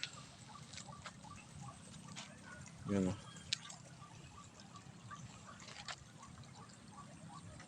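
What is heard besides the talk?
strong flowing floodwater after rain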